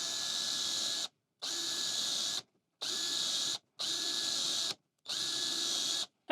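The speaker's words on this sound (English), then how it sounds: "we can just move along on the edge of our piece of work and just pre-drill the holes" A power drill pre-drills holes through an Enjoywood drill guide into a wooden workpiece, whining steadily in five even bursts of about a second each, separated by brief silences, close and loud.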